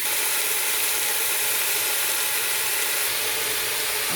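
Mutton frying in oil in a tall pot with thyme and crushed black pepper, giving a steady, dense hiss and sizzle that runs evenly throughout with no talking.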